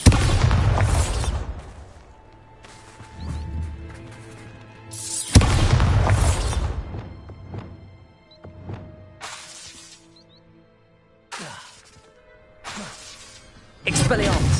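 A Bombarda blasting spell goes off in Hogwarts Legacy, landing as two loud, broad bursts, one at the start and one midway, with shorter crashes scattered between and speech heard around them.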